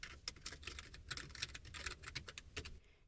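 Rapid clicking of computer keyboard keys as a search query is typed, a steady close run of light taps with no talking.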